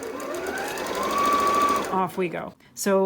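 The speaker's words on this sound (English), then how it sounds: "straight stitch is what comes on as soon as I turn my sewing machine on" A home sewing machine set to its default straight stitch with the needle centred runs steadily for about two seconds, then stops, while a person talks briefly over and after it.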